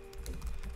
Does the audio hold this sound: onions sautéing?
no